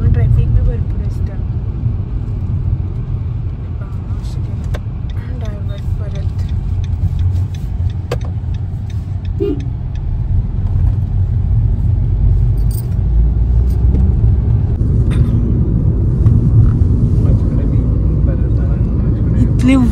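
Continuous road traffic on a national highway: a heavy, low rumble of passing cars and engines that holds steady throughout, with voices in the background.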